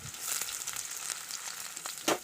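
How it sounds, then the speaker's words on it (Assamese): Chopped onions frying in hot oil with a little sugar for Assamese-style duck curry with ash gourd, a steady close crackling sizzle throughout, with a louder stir or spatter near the end and no voices. "আৰু পিঁয়াজখিনি অলপমান টাইমৰ কাৰণে ভাজি থাকিম।"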